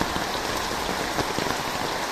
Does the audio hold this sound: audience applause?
no